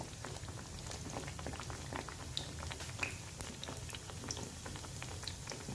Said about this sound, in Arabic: غنخليهم يتقلاو